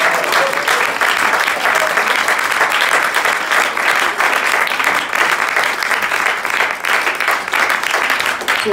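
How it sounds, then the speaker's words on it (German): Loud, sustained audience applause at a German cabaret and comedy show, a thick continuous roar of many hands clapping close to the microphone with a brief cheer at the start, holding steady throughout. "Applaus."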